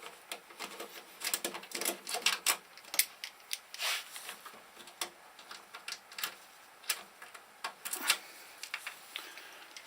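A hex tool unscrews the small hex retaining nuts that hold a cable connector on a Heidenhain monitor. Faint, quick metallic clicks and ticks come in irregular bursts against near silence.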